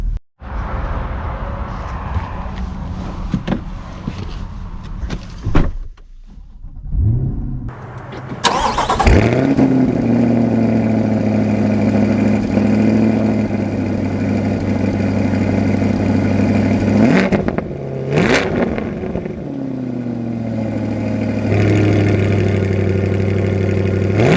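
A 2024 Chevrolet Camaro ZL1 engine cranks and catches loudly, then settles into a steady, close idle with a couple of sharp revs blipping up partway through.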